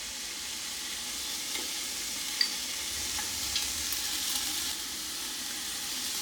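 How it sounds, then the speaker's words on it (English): Celery, carrots and onions sauté in a soup pot with a soft, steady sizzle, and a few faint clicks from stirring now and then. "cook the celery and the carrots with the onions for a few minutes just to thaw and saute those just a bit"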